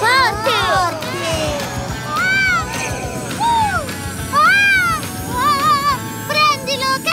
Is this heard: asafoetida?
no